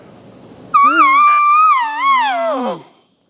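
A man imitates an elk contact bugle with his voice and mouth alone, without a tube: a high, wavering whistled tone that slides, holds and then drops into a grunting fall, loud and close, after a quiet, noisy lead-in.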